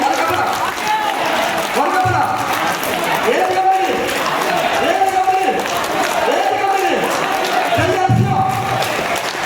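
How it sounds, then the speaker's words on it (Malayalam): A direct selling seminar audience claps in loose rhythmic bursts roughly once a second, blended with crowd noise and a loudspeaker voice throughout. "അങ്ങനെയാണെങ്കിൽ നമുക്ക് കൈയടിക്കാം"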